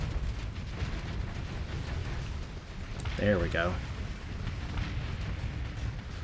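Explosions roar through a space battle in the game Starsector, a dense rumbling wash of blasts and bursts that runs throughout, with a voice speaking briefly over it.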